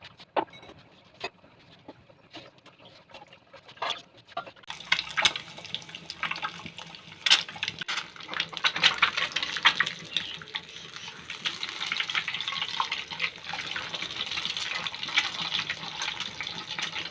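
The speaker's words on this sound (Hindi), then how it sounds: "हमारे नलके में पानी भी बहुत तेज़ आता है" A kitchen tap gushes water at high force into a sink during dishwashing, starting as a sudden loud broadband rush after a few quiet seconds and continuing steadily close by.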